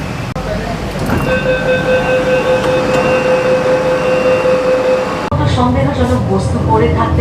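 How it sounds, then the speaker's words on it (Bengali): Loud rumble of a Kolkata East-West Metro train pulling into Bengal Chemical station, a steady high whine from the motors riding over the roar, then a sudden change as sounds shift near the end. "এটা চলে এলো বেঙ্গল কেমিক্যাল মেট্রো স্টেশন"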